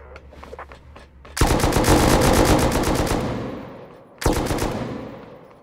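Automatic gunfire in the survival game Rust, scientists on an oil rig: a long, loud, rapid burst of machine-gun shots, a brief pause, then a second close burst, with a few faint clicks before the shooting starts.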